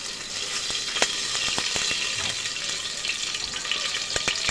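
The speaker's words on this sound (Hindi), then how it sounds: "और फिर से मिर्ची को चटकने दूंगी" Green chilies crackling and spitting in hot oil in a home kitchen pan while cooking lauki sabzi, a steady close sizzle with scattered sharp pops throughout.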